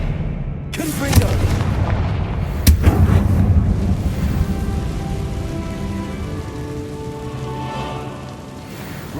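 Spell casting in Hogwarts Legacy, with loud Confringo fire blasts booming close up, one after another, then a rumbling, crackling rush that slowly fades.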